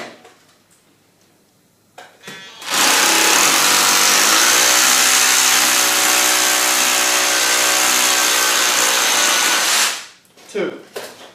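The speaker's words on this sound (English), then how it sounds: "It only takes seconds to drill a hole if you've got the right equipment" A power drill spins up and bores a second hole into a wall for hanging a heavy mirror or picture, a loud sustained whine lasting about seven seconds between quieter handling sounds.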